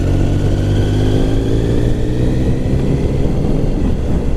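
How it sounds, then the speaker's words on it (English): A Triumph Sprint GT 1050 motorcycle fitted with a Scorpion Serket exhaust rumbles steadily and loudly at close range, its deep exhaust note holding a continuous drone over the whole stretch. "Get a different exhaust, and my god, does that sound nice."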